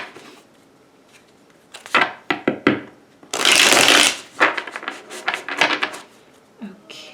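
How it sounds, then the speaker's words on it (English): A deck of cards is shuffled in several quick riffling bursts, the longest and loudest in the middle, close up with short pauses between them. "All right, let me shuffle the cards."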